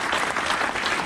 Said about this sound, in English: let's have a round of applause first of all for Ed and for Atos for hosting us